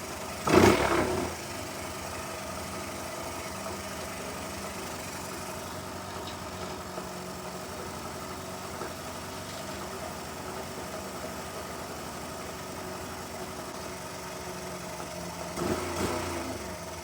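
A Honda C70 Passport motorcycle idles after repair with a steady, even putter, with louder bursts near the start and end.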